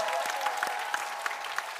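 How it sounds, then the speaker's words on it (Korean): Studio audience applause on a Korean TV music show, a brief, fairly soft patter of clapping with a few sharper claps standing out. "큰 박수 부탁드립니다"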